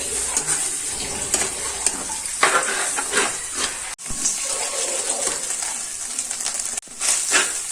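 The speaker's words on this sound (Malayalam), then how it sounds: "ഇതിന്റെ വെള്ളം തോരുന്നിടം വരെ നന്നായിട്ട് ഇത് ചിക്കി കൊടുക്കണേ." Egg and cabbage thoran is stirred and fried in a pan over high heat, giving a close, busy sizzle with scraping stirs and brief pauses as the spatula moves. No one speaks.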